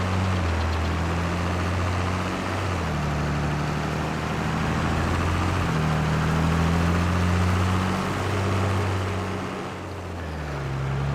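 Tractor engine idling in Farming Simulator 22 on an Ohio farm: a steady low diesel drone with a shifting pitch, continuous and close, with no talking over it.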